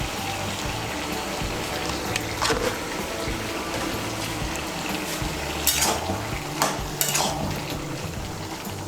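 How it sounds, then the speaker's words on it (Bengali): A spoon stirs turmeric powder into a simmering Bengali fish head and bottle gourd curry in a pan, with soft scraping and gentle bubbling sizzle plus a few sharp utensil clinks against the pot, no voices. "হলুদের গুঁড়োটাকে ভালো করে মিশিয়ে নেব"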